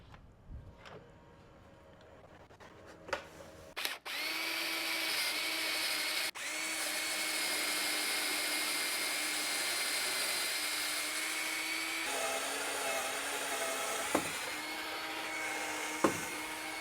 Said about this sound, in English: We're gonna see how if I can drill through a whole bunch of material.